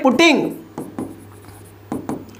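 Pen or chalk scratches out math during a calculus lecture on integration by substitution, a few short strokes under someone speaking.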